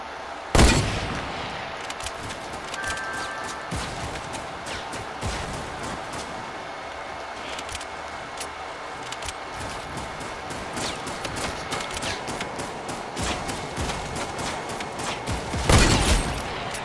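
Gunfire from a shooter video game: a few sharp, loud shots stand out, one near the start and one near the end, over a dense, busy layer of game noise and crackle.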